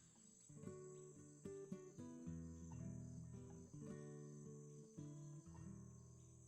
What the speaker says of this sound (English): I hear the crickets from Isla Dread